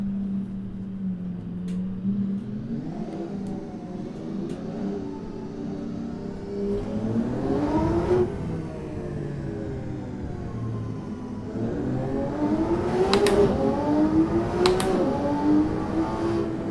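A car engine in a racing simulator, driving the Shutoko Revival Project highway map among traffic, revs steadily with rising pitch through several gear changes, continuous and close, with no talking.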